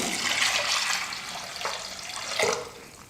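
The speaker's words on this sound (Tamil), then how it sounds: "பருப்பு வேக வைக்கிறதுக்கு தேவையான அளவுக்கு தண்ணி சேர்த்துக்கலாம்" Water splashes and pours steadily into a pressure cooker pot of dal for a few seconds, with a couple of brief louder gushes near the end.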